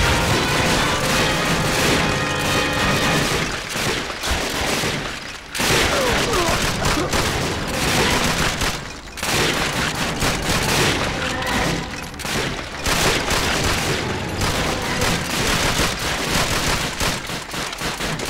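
Grenades and gunfire blast repeatedly in Call of Duty: Finest Hours during a night mission, loud dense bursts of explosions and shots packed together with brief lulls between them.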